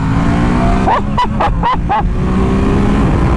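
Ducati Monster 1200 S motorcycle in sport mode, loud and close, its engine held at a steady high drone with a run of quick rising rev bursts near the start.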